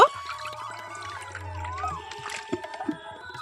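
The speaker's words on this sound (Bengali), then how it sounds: "এখন আমি এর মধ্যে দিয়ে দেব জল" Water poured onto cut mango pieces in a pot, a short close splashing and sloshing pour with a few small splatters toward the end, heard alone.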